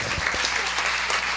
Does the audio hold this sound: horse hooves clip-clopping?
no